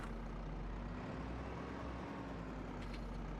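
A steady, low tractor engine drone from Farming Simulator 25 runs continuously at an even level, close and unbroken, with no voices.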